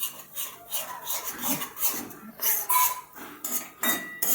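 A spoon scrapes and stirs flour roasting in ghee in a pan, with repeated rasping strokes and light metallic scrapes in an irregular rhythm, close and clear with no talking.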